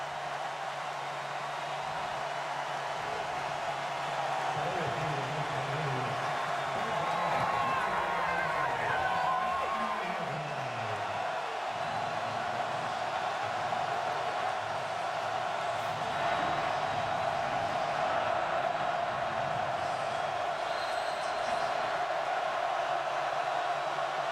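Football stadium crowd at a 2011 Maryland vs Miami college game, a steady, distant roar of thousands of fans that holds constant throughout, with broadcast commentators talking over it.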